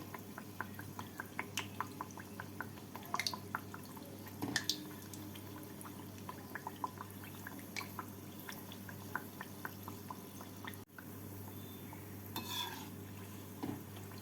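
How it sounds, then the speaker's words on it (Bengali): Malpua, a sweet batter pancake, fries in oil in a pan as its second side browns, giving a steady low sizzle with scattered light clicks and taps of a utensil against the pan. "এবার আরেক দিকটাকেও লাল করে ভেজে নিচ্ছি"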